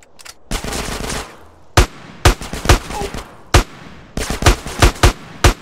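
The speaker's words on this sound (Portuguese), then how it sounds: "O esquema é meter tiro na cabeça." Sharp gunfire in GTA San Andreas crackles in bursts, a sustained automatic volley followed by rapid single shots, loud and close.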